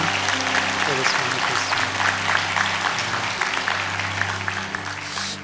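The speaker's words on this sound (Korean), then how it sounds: "우리 감사와 축복의 박수로 교수님을 함께 해보겠습니다." A church congregation claps through a Sunday worship service, with dense, sustained applause over sustained tones from music playing underneath.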